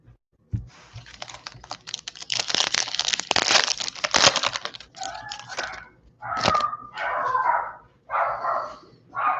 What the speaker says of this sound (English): my dogs. Hopefully you guys don't hear that